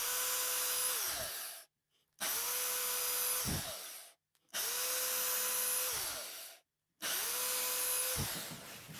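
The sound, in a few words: drilling guitar body with a small drill bit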